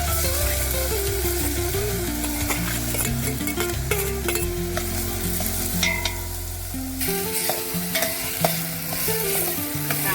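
Onions frying in a pan over a wood-fired clay stove while a Konkan-style mutton dish is cooked, with steady sizzling and scraping stirs under what sounds like background music, no talking.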